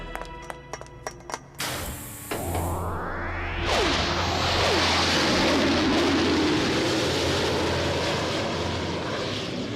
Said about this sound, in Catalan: Els avions, noies!